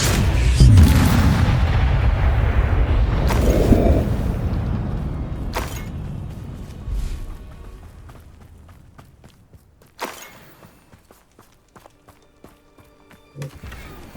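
Spell explosions from Hogwarts Legacy burst loudly at the start, a deep booming blast with rumbling tail, followed by scattered footsteps and smaller impacts fading into near quiet.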